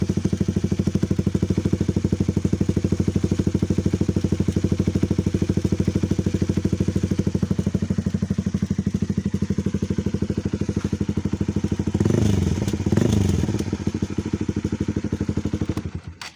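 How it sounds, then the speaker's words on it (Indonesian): Honda CB150R motorcycle idling with a steady mid-pitched exhaust thrum and a light metallic rattle from the dB killer inside the silencer, close and continuous, with a brief blip of revs near the end. "itu ada suara-suara kerincing-kerincingnya itu karena ada DB killernya ya, itu di dalam"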